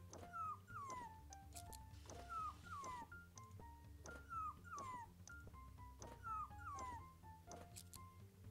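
Dogs in the video game To The Rescue! yip and whimper in a steady repeating pattern, with short bursts roughly every second over a constant low background hum.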